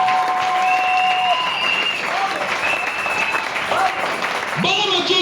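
A church congregation claps in loud, sustained applause, dense and continuous, with voices and cheers mixed in throughout.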